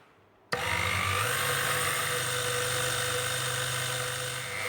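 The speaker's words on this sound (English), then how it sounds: "I'm going to put it in the blender" An old electric blender grinds cumin seeds and salt, starting abruptly after a brief quiet moment and then running as a loud, steady motor whine with a rattling grind throughout.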